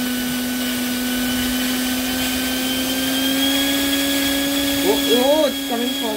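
A 70mm electric ducted fan jet running at thrust gives a loud, steady high-pitched whine with strong tonal hum, and a voice speaks briefly near the end.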